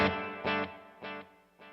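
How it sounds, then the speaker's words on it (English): Guitar chords played through two stacked phaser pedals with tape delay and Meris Mercury 7 reverb, three swelling strums in a row, each decaying into a swirling, echoing tail, with no voices. "So that's both phasers on. Got a little bit of tape delay."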